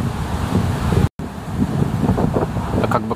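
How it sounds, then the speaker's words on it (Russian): Strong gusts of autumn wind buffet the microphone in Yekateringof park, Saint Petersburg, producing a loud, rumbling roar with a brief dropout near the start. "Сейчас еще и ветер подул"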